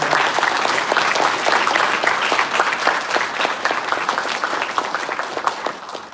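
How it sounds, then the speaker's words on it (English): A large audience applauds at a University of Georgia College of Pharmacy pharmaceutical sciences convocation, dense sustained clapping that stays even and full before tapering slightly at the end. "Let's give a very warm round of applause for all of our."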